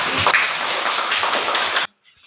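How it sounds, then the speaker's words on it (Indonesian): Classroom applause for a student group after their presentation, a dense burst of many hands clapping at close range that stops abruptly near the end. "tepuk tangan dulu untuk kelompok"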